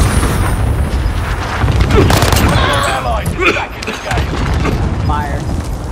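Airstrike explosions pound a battle royale match in a video game, a dense run of heavy booms and rattling blasts over about six seconds, with a squad member talking over them.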